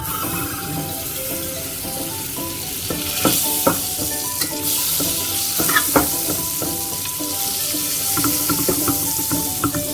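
Butter sizzling and frying in a pan as the base for a homemade béchamel sauce, a steady close crackle with stirring clicks and scraping throughout, with no one talking.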